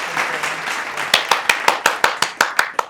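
Several people clap: a loose patter at first, then a run of about ten sharp, evenly spaced claps close by. A faint murmur of voices runs under it.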